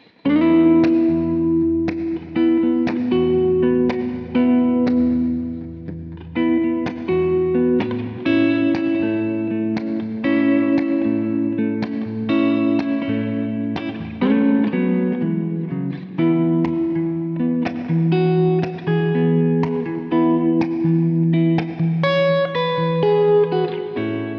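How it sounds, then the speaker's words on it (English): A PRS McCarty electric guitar on its neck pickup, no coil split, with volume and tone fully up, plays clean sustained chords and single notes with ringing decay, steady and loud with no talking. "So this is the neck pickup, no coil splitting, just full volume, full tone."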